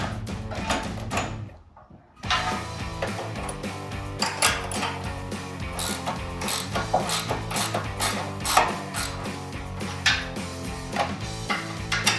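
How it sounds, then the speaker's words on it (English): A ratchet turns a 16mm socket to tighten a 10mm bolt on Jeep Gladiator JT step bars, giving close, repeated metallic clicking and clanking that continues steadily with a short pause early on. "Now I'm going to move to my 10mm bolt, which uses my 16mm socket and 17mm wrench."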